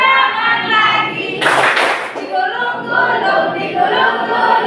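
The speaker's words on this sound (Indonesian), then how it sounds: "tepuk tangan lagi" A class of children clapping hands together during a lively classroom song, a short burst of claps in the middle of loud, sustained group singing.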